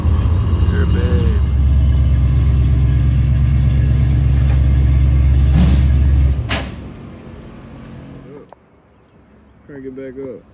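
A car fitted with an aftermarket SR Performance axle-back exhaust idles and revs loudly at a muffler shop with a deep, heavy rumble, then the engine shuts off, leaving quieter shop noise and brief voices.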